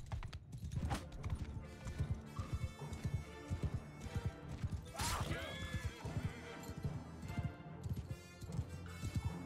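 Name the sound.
cavalry horses galloping, from video game Mount and Blade 2 Bannerlord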